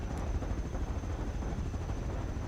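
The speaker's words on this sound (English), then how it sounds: "you can pick them up with the helicopter" Helicopter flying in the video game Rust, a steady loud low rotor thrum and engine rumble that holds constant throughout, close and without talk.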